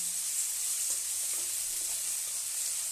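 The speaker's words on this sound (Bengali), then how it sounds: "দেখো তেলে আমি রসুন দিয়ে দিলাম আমি রসুনটা কিন্তু আলাদা করে ভাজি না" Garlic and onion frying in hot oil together, a steady soft sizzle with faint stirring scrapes running throughout at low volume, no talking.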